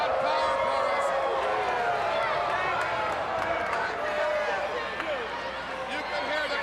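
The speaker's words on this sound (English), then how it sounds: "You can hear the crowd." Dense arena crowd roaring and cheering at a professional wrestling event, a continuous loud wash of many voices with whistles and shouts throughout.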